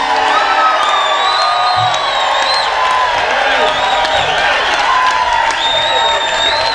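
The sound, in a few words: crowd screaming and cheering at a rally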